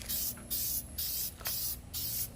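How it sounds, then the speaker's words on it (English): Polyurethane clear spray paint hisses from an aerosol can onto a factory wheel rim in four close, steady bursts separated by brief pauses. "we'll come with a polyurethane clear spray paint on it and finish it up"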